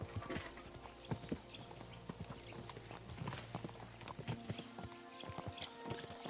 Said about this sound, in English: There now. Good horsey.